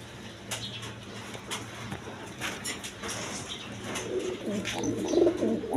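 A pair of big Kagzi pigeons coo softly nearby, low rolling calls that grow a little fuller toward the end.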